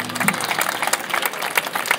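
Audience applause for a bass player at a small rock concert in Alcorcón, dense steady clapping from a nearby crowd lasting the whole moment, without voices over it.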